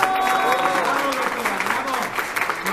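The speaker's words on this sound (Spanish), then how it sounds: "Ahora sí, el aplauso fuerte, por favor" Audience applauding at an award ceremony in Mexico, a steady wash of dense clapping through the whole stretch, with a voice calling out loudly over it.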